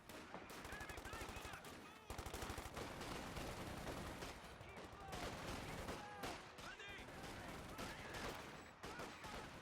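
Thompson submachine gun fire in the strategy game Company of Heroes 2, with rapid automatic rattling that runs almost without pause, mixed with other battle noise, while a commentator talks over it at low overall volume.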